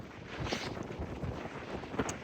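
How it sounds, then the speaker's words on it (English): Steady low wind rumble buffets the microphone, with gusty bursts rising and falling throughout; no voices. "It's a little bit windy for this one"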